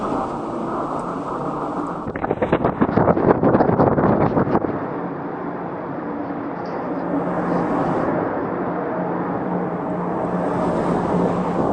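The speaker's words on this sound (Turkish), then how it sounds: "rüzgar çok fazla rüzgar var" Strong wind roars steadily and loudly, buffeting the microphone with a constant rushing noise, briefly joined by rapid fluttering gusts.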